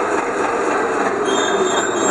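A train rattles and clatters steadily over old tracks, loud and close, with metallic wheel squeals riding over the continuous rumble.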